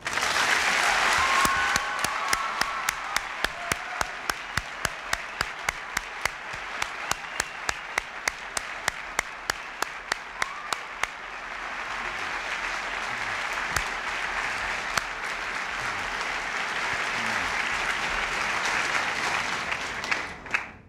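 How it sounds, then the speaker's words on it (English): Oakton High School students in Virginia applaud their teachers, loud sustained clapping from a large crowd swelling and continuing for a long stretch, with sharp camera clicks sounding throughout. "would you students join me for a moment in applauding your own teachers here at Oakton?"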